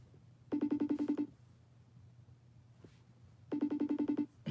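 A phone rings in two bursts, each a rapid electronic trill of about seven pulses lasting under a second, separated by a quiet gap. It is fairly loud against a low background hum.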